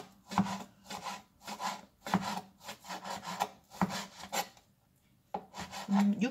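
A knife slices raw beef into thin, even strips on a wooden cutting board for Korean yukhoe. The strokes are quick and rhythmic and sound close up, then pause briefly before a few final cuts.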